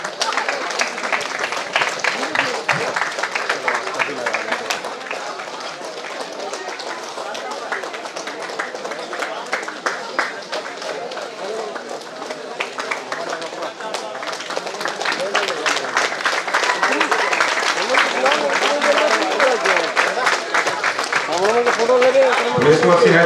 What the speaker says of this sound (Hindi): तालियों के साथ स्वागत करते रहें।